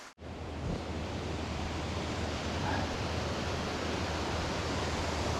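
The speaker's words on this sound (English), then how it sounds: "Looks like we're coming across the river I gotta ford." Steady broadband rush of a river flowing beside a hiking trail near Virgin Falls, constant and fairly close, no voices.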